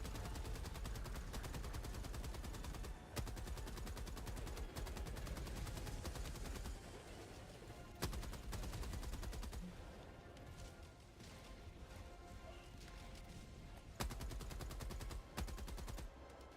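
Sustained automatic gunfire from the video game Helldivers 2 during a battle against bots, dense rapid shots continuing with brief pauses and a few heavier impacts, loud and close, no talk.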